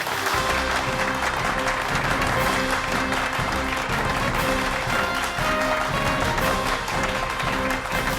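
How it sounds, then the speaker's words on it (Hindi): Loud, sustained applause from a theatre audience welcoming a stage magician, dense clapping filling the whole stretch without a break. "तो जोरदार तालियों के साथ स्वागत कीजिए"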